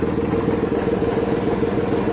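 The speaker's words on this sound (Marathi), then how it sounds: "बिहाराचं ट्रॅक्टर झाले बाबा किती जोरात चालत आहे." A tractor engine runs hard and close, a continuous rumbling, throbbing drone with a rapid mechanical pulse and no voices.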